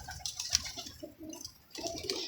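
A pigeon coos softly and close by in a few short, low, throaty phrases, with no voices.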